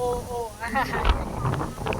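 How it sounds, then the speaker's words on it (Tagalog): Loud, steady wind buffeting the microphone, with a voice talking briefly underneath the roaring gusts. "Grabe ang hangin."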